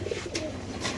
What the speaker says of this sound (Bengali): মাশাআল্লাহ খুব সুন্দর কবুতর আল্লাহর রহমতে।